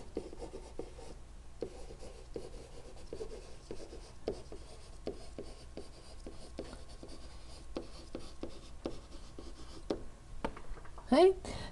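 Marker writing on a board while a graph of a translated function is drawn, steady scratchy strokes in quick repeated bursts, close and clear, with a voice talking over them throughout.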